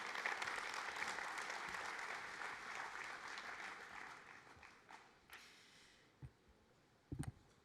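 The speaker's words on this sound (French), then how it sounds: "Sous vos applaudissements nourris." Applause from the audience at the closing session of the 2021 HLM housing congress, sustained clapping that gradually thins and fades, ending with a few scattered isolated claps.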